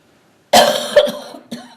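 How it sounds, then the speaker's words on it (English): A dry cough from a person at a GRF meeting, a few close, loud, harsh bursts in quick succession out of near silence. "And I have a dry cough."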